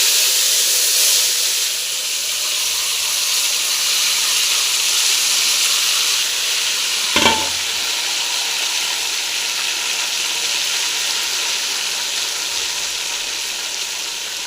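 Mustard seeds splutter in hot oil as a loud, steady hiss of frying, with one brief clatter midway and no voices.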